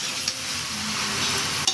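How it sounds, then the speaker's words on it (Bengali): Water spinach being stirred with onion, chili and garlic in a frying pan, a continuous hissing sizzle with soft scraping of the spatula and a couple of sharper clicks against the pan. "পেঁয়াজ, মরিচ ও রসুনের সাথে ভালো করে মিশিয়ে নেব"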